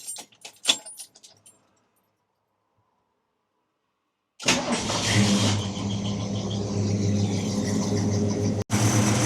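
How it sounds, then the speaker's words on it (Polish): After a few faint clicks and a silent pause, a classic car engine turns over after its ignition timing is set, then settles into a steady, close idle. "Teraz pozostaje nam odpalenie samochodu, odpalenie silnika."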